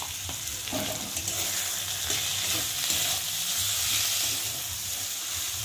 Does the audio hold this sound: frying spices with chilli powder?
yes